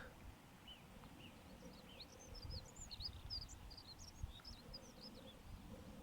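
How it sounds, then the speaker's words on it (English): Faint birds chirping in the distance on the Gotthard Pass, scattered short tweets over a low outdoor rumble. "You can hear some birds"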